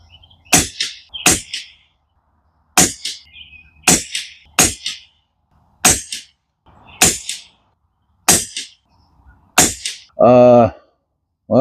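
Rifle firing ten rounds of test ammunition in a row, sharp loud cracks spaced a second or two apart with short echoing tails, ending with a brief burst of noise.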